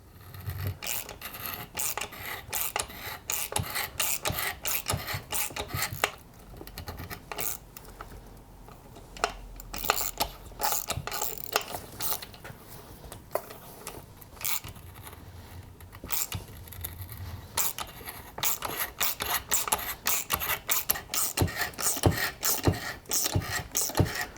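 Rough, repetitive scraping and rasping of a thread tap cutting into aluminum to repair a stripped chainsaw bar stud hole, quiet and close, with uneven grinding strokes and short pauses throughout.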